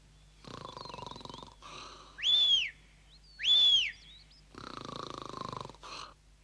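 A cartoon character gives two loud snores with a whistling, wheezy tone between stretches of softer noisy breathing, all close by.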